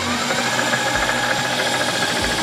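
A milling machine fly cutting a Corvair cylinder head: a steady, loud metallic grinding whir with a faint periodic thump as the cutter sweeps across, continuous throughout without speech.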